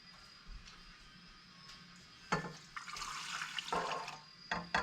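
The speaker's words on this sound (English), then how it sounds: "we're going to add 1 cup warm water with a 1/4 cup warm milk" Warm water and warm milk pour into a mixing bowl, a quiet splashing trickle that starts partway in and comes in a few uneven bursts against a faint background.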